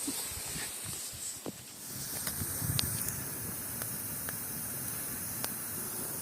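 Sausages frying over a campfire in a winter forest give a steady soft hiss and sizzle with occasional small pops and crackles. It sounds close and fairly quiet, with no talk over it.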